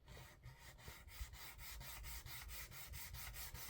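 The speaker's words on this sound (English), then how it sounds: "So I just took my sanding stick, just laid it flat." A sanding stick laid flat and rubbed back and forth on a KITT model car, a steady rhythmic rasp repeating about every quarter second, close and even.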